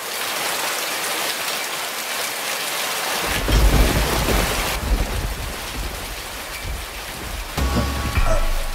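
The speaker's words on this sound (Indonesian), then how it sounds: "Kenapa akhir-akhir ini sering hujan lebat?" Heavy rain pours steadily while deep rumbles of thunder roll in, loud and close, with no voices.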